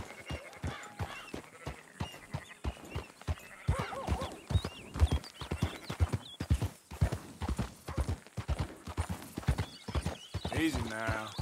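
Horse hooves clip-clop steadily in Red Dead Redemption 2, a close rhythmic trot of hoofbeats with a brief whinny, while voices talk over them throughout.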